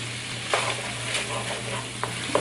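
Pork egg roll filling with chili paste being stirred in a hot pan: steady frying sizzle with a few clicks and scrapes of a spoon against the pan, close and moderately loud.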